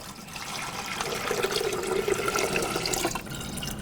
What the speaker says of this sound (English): So I'm going to add about 6 cups of water here.